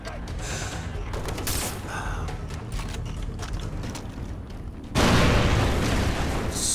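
Grenade explosions in Far Cry 3: scattered pops and bursts, then a sudden loud, sustained blast roaring near the end, with no talk.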